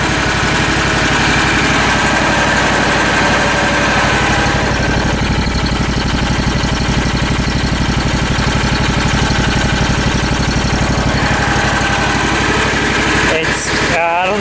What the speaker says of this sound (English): Let you listen to this engine for a moment. You can see how nice it purrs.